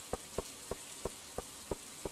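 Rain in Stardew Valley, a soft steady patter with evenly spaced light taps repeating about three times a second, heard alone.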